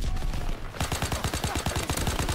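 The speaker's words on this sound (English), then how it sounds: "Wow, I'm getting shot from somewhere." Rapid automatic gunfire erupts in Call of Duty WWII, a burst of evenly spaced loud shots starting abruptly after a brief lull of battlefield noise and continuing in a fast, sharp rhythm.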